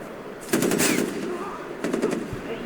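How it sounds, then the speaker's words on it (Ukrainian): Rapid automatic gunfire from the video game Far Cry 4 comes in two loud, dense bursts separated by a short pause, with game ambience underneath. "Що ти стріляєш?"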